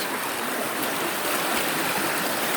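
Small waterfalls at Gölalan waterfall in Samsun pour in a steady, even rush of water, close and continuous with no voices.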